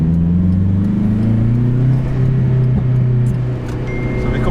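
A 430bhp turbocharged Honda Integra DC5 engine pulls hard under acceleration, a loud, continuous droning rumble with rising pitch heard from inside the car, no voices.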